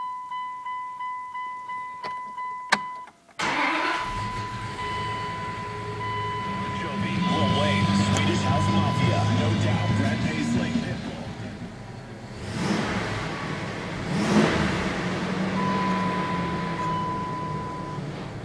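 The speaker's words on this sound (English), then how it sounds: "Shouldn't rev a truck like this." A 1999 Dodge Dakota pickup's engine idles, then swells into a couple of revs with a long rising surge, heard near the truck while someone talks over it and a steady electronic beep chimes at the start.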